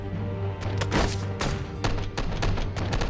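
Gunfire in a movie scene, with a quick run of sharp bangs and thuds over a low rumbling background, loud and close.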